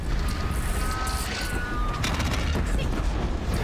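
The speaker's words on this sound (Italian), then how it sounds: "il cannone Oseram me la cavo mica male" An Oseram cannon in Horizon Zero Dawn fires in heavy, booming blasts that overlap into a loud, continuous barrage with crashing impacts and no pause between them.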